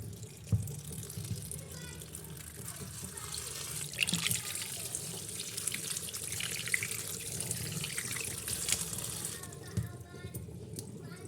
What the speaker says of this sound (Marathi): भाजी आपण छान मस्त अशी धुवून घेणार आहोत बारीक नळ करते